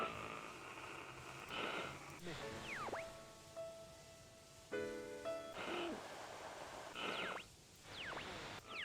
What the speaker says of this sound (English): Why does it sound like an owl whenever I change?